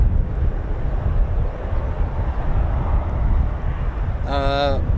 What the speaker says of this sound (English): the delightful sound of a Typhoon starting up